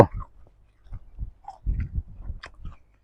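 Crunchy field crab in a papaya salad is chewed close up, with irregular crisp bites and crunches coming in uneven bursts and short pauses.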